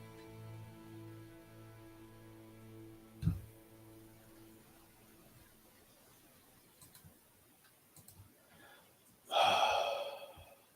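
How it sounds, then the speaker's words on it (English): A deep breath during a guided meditation practice: a long, audible inhale near the end, with a soft sigh or exhale earlier over a quiet background tone. "And now take a deep breath."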